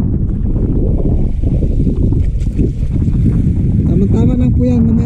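Strong coastal wind buffets the microphone with a low, rumbling roar, joined near the end by a droning engine hum, and a voice speaks briefly over it.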